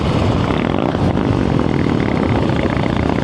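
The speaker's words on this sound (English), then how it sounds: "It's smooth, yet it's still got the rumble. They've done a fantastic job with this engine." A Harley-Davidson Street Bob's V-twin engine rumbles steadily at close range, loud and even, with no speech.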